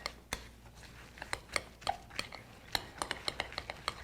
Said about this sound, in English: Give this all a stir.